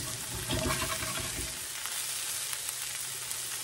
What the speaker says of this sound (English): So I just go along there and just kind of flip it over like that with my spatula.